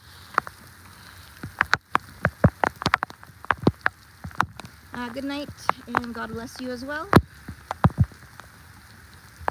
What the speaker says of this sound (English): it's raining and pouring